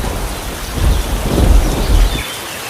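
Heavy rain pours steadily in a bird cartoon, with thunder rumbling low and loud through the middle before the storm suddenly drops away near the end.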